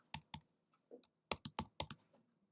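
Keystrokes on a computer keyboard while entering text in PowerPoint, about eight sharp clicks in two quick bursts with a pause between, close and clear with no talking.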